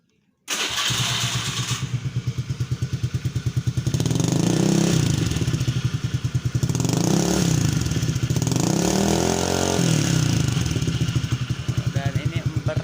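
A motorcycle with a modified knalpot exhaust fires up after a brief silence and settles into a loud, close, rapid lumpy idle, with a few swells of throttle, steady to the end.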